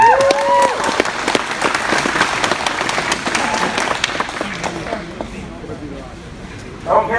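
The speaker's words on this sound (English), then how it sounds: "let's hear a real big applause" A crowd at a trapping rendezvous competition applauds a multiple-time champion skinner, with dense, steady clapping and some cheering that fades out near the end.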